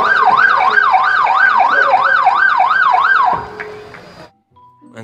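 A toy police car sounds a loud electronic wailing siren, rising and falling in about nine quick cycles before cutting off abruptly, followed by a few faint clicks in near silence.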